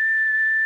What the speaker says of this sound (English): is blowing his weird whistle